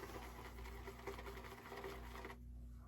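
Shaving brush whipping lather from a Mr. Rick soap base, a fast continuous wet churning patter close to the microphone over a low steady hum, stopping abruptly near the end.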